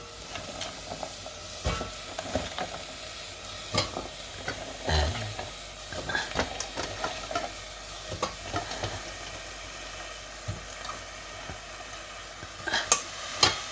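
Onions and beans frying in a pan, a soft continuous sizzle broken by repeated scraping and clattering strokes of a spoon against the pan, close and fairly quiet.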